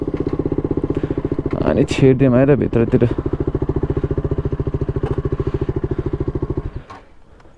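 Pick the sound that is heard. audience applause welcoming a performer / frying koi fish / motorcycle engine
motorcycle engine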